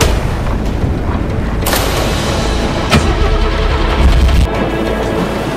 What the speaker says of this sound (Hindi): गाड़ी स्टार्ट होने